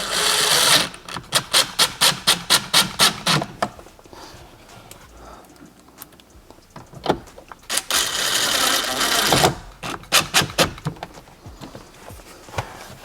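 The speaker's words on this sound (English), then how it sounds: "take your screws, go ahead and reinstall your screws back in, Phillips." A powered driver reinstalls Phillips screws into interior trim on a BMW E9X, heard as rapid bursts of sharp, evenly spaced ratcheting clicks close by, pausing briefly between runs and repeating several times.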